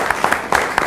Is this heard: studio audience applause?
yes